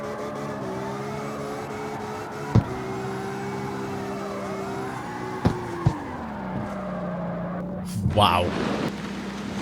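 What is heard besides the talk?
drift car spinning its wheels in CarX Street video game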